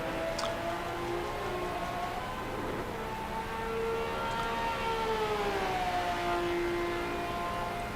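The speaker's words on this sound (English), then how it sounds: "You can just hear how that car just over revs." A race car engine over-revving during a PC2 World Tour round at Ruapuna Park, a high whining note that swoops up and down in pitch, heard at a distance under a steady background roar.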